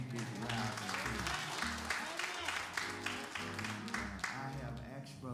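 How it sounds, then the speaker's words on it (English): A church congregation gives a big round of applause, a dense steady clatter of many hands lasting several seconds, mixed with sustained musical tones and voices. "Hear that, a great big round of applause."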